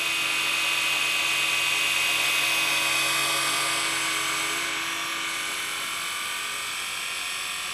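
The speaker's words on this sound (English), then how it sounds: "Leading edge on these carbon fibre blades got quite an unusual little lip profile, and it makes this sort of whiz whiz whiz whiz lip noise." RC scale SA315B helicopter from a Ken Luo 230S kit, spinning carbon fibre rotor blades with an unusual leading-edge lip profile, giving a steady, loud high-pitched whirring whine that fades slightly toward the end, with no talking.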